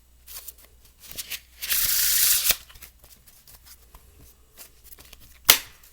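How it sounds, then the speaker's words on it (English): A single riffle shuffle of a Polyantha playing card deck buzzes loudly for under a second, framed by soft handling taps and one sharp snap of the deck. "Let's do a riffle shuffle."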